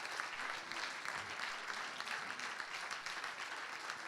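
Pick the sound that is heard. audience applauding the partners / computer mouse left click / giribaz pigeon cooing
audience applauding the partners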